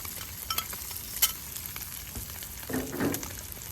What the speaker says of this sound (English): Add in the rest of these mushrooms and onions.